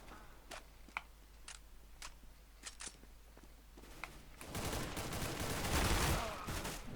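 Gunfire in Counter-Strike: Global Offensive: several short, sharp shots and small bursts spread over a few seconds, followed by a louder, denser rumble of firing near the end.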